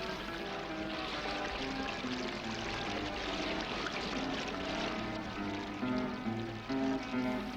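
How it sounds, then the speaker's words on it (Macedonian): The clear, fast Tresonechka river rushes over pebbles, a steady close splashing and gurgling flow that continues throughout with slight swells near the end. "бистрата вода на Тресонечка река бучи преку белутраци"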